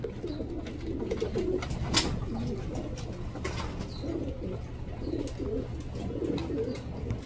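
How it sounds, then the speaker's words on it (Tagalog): A pet bird, likely a dove, coos softly and repeatedly at close range over a steady background hum, with no talking. "ang bilis lumaki ng ibon natin"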